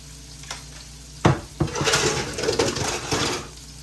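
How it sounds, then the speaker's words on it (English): Metal utensil scrapes and clinks against a hot pan as shrimp are lifted out, over a steady sizzle of frying, with a couple of sharp knocks near the start. "I'm gonna take my shrimp off right now."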